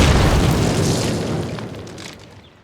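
A loud, close explosive charge blows up in Call of Duty, a heavy booming blast with a deep rumble that slowly fades over a couple of seconds.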